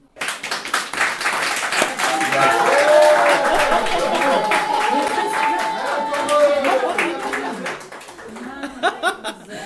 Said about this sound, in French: Vous voyez qu'on a applaudi la présidente de l'AFCO.